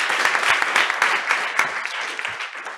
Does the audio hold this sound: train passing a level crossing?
no